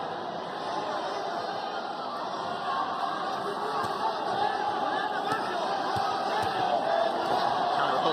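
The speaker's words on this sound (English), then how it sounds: "Crowd here in Guadalajara coming alive." A boxing crowd in Guadalajara roars steadily throughout a bout between Kiyoguchi and Esteban Bermudez, a dense, continuous wash of cheering and chatter that swells slightly toward the end.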